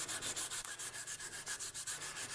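Hand sanding of cured epoxy on a Scout Carbon paramotor: close, steady back-and-forth rubbing strokes, roughly ten quick passes in a fast regular rhythm, with no talking.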